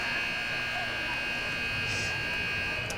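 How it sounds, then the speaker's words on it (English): At a men's ice hockey game between Rock Ridge and Gentry Academy, the period-ending buzzer drones as a steady, sustained electronic tone over arena noise, with a voice talking faintly beneath. "with the face-off, the buzzer sounds, and that will be the end of 2"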